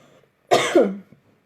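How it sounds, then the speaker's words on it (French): A single close, short cough in a quiet room. "Désolée, j'ai toussé un peu."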